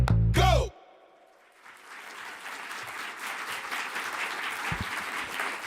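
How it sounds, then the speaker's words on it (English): Audience applause in a NASA headquarters auditorium in Washington, D.C., a steady, moderate patter of many hands clapping at some distance, following a short loud burst at the start. "Thank you for that applause, and welcome to NASA headquarters in Washington, D.C."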